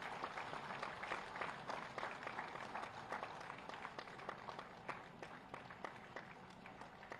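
Applause for teachers being honoured at a state teacher award ceremony, a quiet, distant patter of clapping in a hall with sharper individual claps poking through, continuing steadily without pause.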